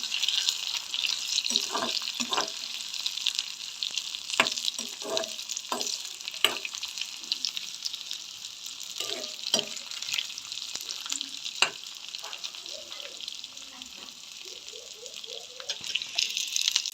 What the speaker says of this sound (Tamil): அடுத்தது வந்து பெருஞ்சீரகம், இதை இப்போ வதக்கி விடுவோம்.